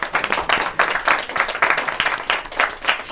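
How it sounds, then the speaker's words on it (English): An audience applauds at a televised interview program, steady rhythmic clapping from a small group throughout, fairly close and even, with no talk over it. "I think we should applaud for that."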